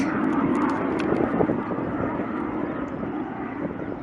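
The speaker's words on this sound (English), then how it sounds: "That's the Typhoon, he's just dropped his chute! Plane flying over." A Eurofighter Typhoon jet passes overhead at an airfield, making a loud, broad, continuous engine roar that stays strong through the whole clip, with faint crackling noise on top and no clear speech.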